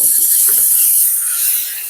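Fish curry paste and a splash of water hit a hot pan in a loud, steady sizzle and hiss that fades slightly toward the end.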